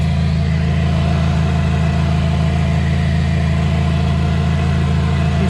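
A repaired Hyundai Sonata engine running steadily, a loud, even, close hum and drone with a constant low rumble and no pauses.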